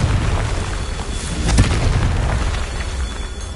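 A Confringo blast from a fire spell in Hogwarts Legacy, heard as a dense, rumbling explosion with a sharp burst partway through, loud and sustained across the whole moment.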